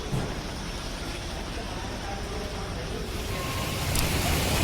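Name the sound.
heavy rain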